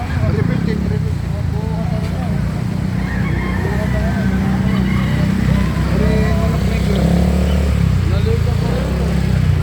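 Native chickens cluck and squawk at a busy market, with faint calls scattered under constant crowd chatter and passing traffic noise.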